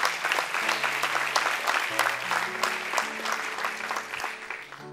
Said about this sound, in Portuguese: Dê um aplauso bem forte, Senhor.